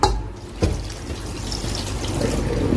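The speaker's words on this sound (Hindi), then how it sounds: "इनको हम ड्रेन करके इनके ऊपर हम ठंडा पानी डालेंगे ताकि ये जुड़े ना।" Cold water is poured from a tap over drained boiled spaghetti in a home kitchen, a close, continuous splashing stream that starts with a few sharp spatters and runs on steadily.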